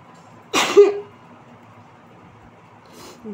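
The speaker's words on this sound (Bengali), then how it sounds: "দুটো হাঁচি হলো।" A person with a cold sneezes twice. The first sneeze is loud and close, and a second, much fainter one comes a few seconds later in a quiet room.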